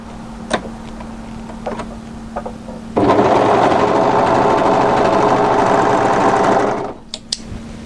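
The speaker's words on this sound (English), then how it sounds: "Fold that, and then overlock." An overlocker serger sews a garment seam on a coatigan with a draped front and shawl collar hood, running in one loud, steady, rapid whir of about four seconds between quiet moments with light clicks.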